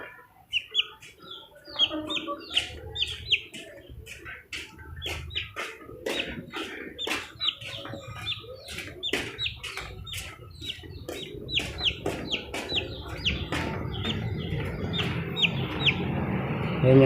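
Chickens cluck in a steady run of sharp, repeated calls near and far on a backyard farm, where Gray, the rooster that fathered the chicks, is kept, while a low background murmur builds toward the end.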